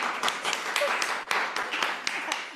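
A conference audience claps, a dense, fairly close burst of many hands with a few sharper individual claps, continuing briefly without talk.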